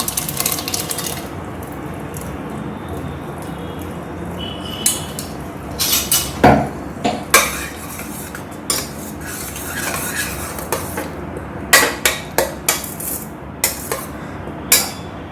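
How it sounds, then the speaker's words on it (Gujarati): Beetroot paste is added to pav bhaji cooking in a pan, with a low background hiss followed by sharp metallic clinks and scrapes of a spoon against the pan, irregular and close, with no voice. "હવે આપણે એને પેસ્ટ એડ કરીશું."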